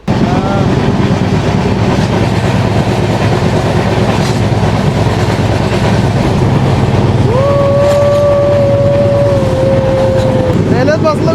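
A train runs on rails in India, a steady loud rumble with rhythmic clatter throughout, a horn-like tone rising near the end, and indistinct voices mixed in.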